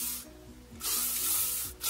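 Elnett hairspray is sprayed onto curled hair in a few short aerosol hisses, a brief burst followed by a longer steady spray, close and fairly loud, with no talking.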